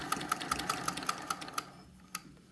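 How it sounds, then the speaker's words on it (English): Sewing machine stitching down a folded-under fabric edge with a binder attachment, a run of evenly spaced, close mechanical clicks that stops, then one more click after a short pause. "I am just stitching down that edge that I have just folded under."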